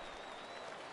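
A stadium crowd in a baseball video game cheers and applauds, a dense, steady wash of clapping and crowd roar that holds at an even level throughout.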